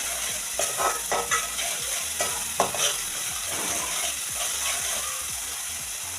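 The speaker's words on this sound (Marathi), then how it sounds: "मसाला छान एकजीव करून घ्यायचा आहे" A spice masala for a fish curry is stirred in a hot pan, a spoon scraping in several quick strokes over a steady close sizzle with no talking.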